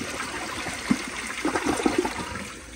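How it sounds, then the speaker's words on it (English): A 2000s Vortens Vienna elongated toilet flushes, a short rushing swirl of water through the bowl and rim jets with gurgling bursts near the end, close and fairly loud. "And here is a flush."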